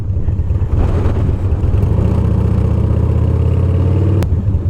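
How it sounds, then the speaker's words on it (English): A Harley-Davidson Dyna FXDL with a TBR Comp-S 2-into-1 exhaust revs steadily with a deep, throaty exhaust rumble, loud and close, holding a rough drone throughout with a sharp click near the end. "I needed to hear what this pipe sounded like"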